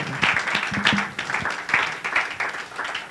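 A church congregation applauding during a Sunday service, sustained dense clapping that fills the room with a few voices calling out underneath.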